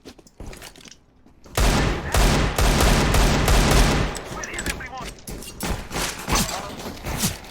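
Desert Eagle pistol fire in the video game CS:GO: after a quiet second or so, loud rapid shots burst out and continue densely for a few seconds, then thin into scattered, fainter reports.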